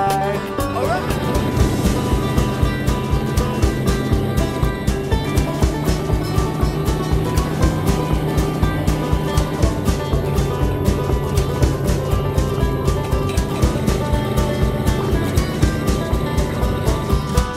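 Large tractor engine running with a steady, loud rhythmic chugging throb that continues evenly throughout, close and unbroken.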